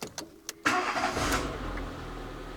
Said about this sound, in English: But let's just try to start up the engine.